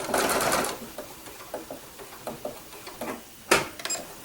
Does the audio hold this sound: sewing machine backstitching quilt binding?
yes